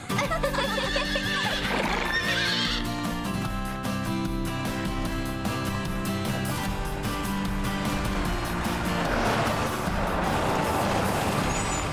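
Cartoon horse Chili giving a long, loud, wavering neigh and whinny, close and prominent over a busy musical score for about twelve seconds.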